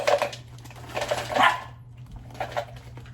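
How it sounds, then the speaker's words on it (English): A dog gives a few short, sharp barks spaced apart, fairly close, over a steady low hum with no talking. "No barking."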